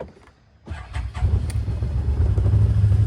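After a short crank, the engine of a Can-Am Defender HD10 utility vehicle starts up and settles into a loud, steady rumbling idle nearby, with its check engine light on.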